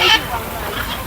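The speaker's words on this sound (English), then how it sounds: "some parrots" Parrots call at the Cartagena, Colombia cruise port jetty: a harsh, bright squawk bursts out at the start, followed by softer calls over a murmur of background voices.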